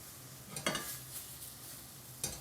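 Curry gets a quick stir in a hot pan, with a faint low sizzle underneath and a few soft scrapes and clinks of a utensil against the pan, close and quiet.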